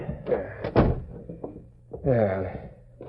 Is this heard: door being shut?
yes